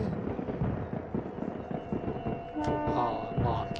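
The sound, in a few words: fireworks in a video game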